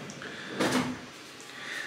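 A drawer slides open quietly indoors, giving a soft scraping rumble with a brief rattle of its contents, fairly close but faint.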